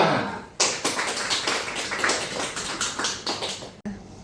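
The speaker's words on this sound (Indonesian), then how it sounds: "Tepuk tangan." Applause from an audience at the close of a university lecture on Batak ethnic social semiotics: dense, steady clapping that starts abruptly, holds for about three seconds and cuts off sharply, with no talking.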